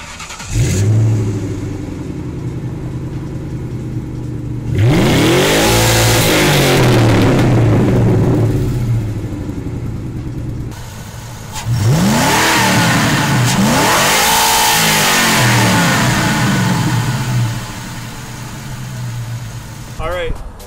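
A stock 2000 Ford Mustang GT, recently serviced, idles then is revved hard in two long bursts, the engine note rising and falling sharply up close before settling back to a rumbling idle between and after.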